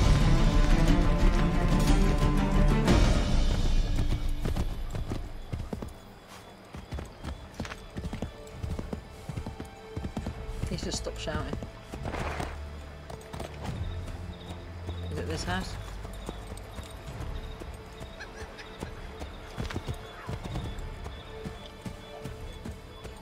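Horses gallop in Assassin's Creed 3 with rapid, loud hoofbeats at first, then slower clip-clop steps under game music and voices.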